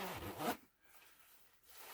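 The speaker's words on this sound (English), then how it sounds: "zipper is sliding really nice right now. Okay, it's starting to catch." Plastic zipper on a winter parka slides in a quick rasping pull lasting about half a second, then near silence with faint rustling.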